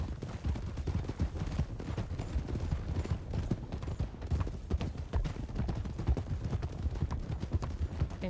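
Horse hooves clip-clop steadily along a road while riding in the Red Dead video game, a brisk continuous rhythm heard close and fairly loud.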